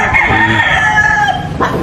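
A rooster crows loudly and close by, one long drawn-out call with a crackly harmonic edge, and a few soft clucks sit underneath it.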